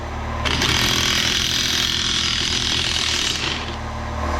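A DeWalt power tool hammers away at a junkyard Dana 60 axle, a loud, rapid mechanical rattle that starts abruptly and runs steadily for about three seconds before easing off.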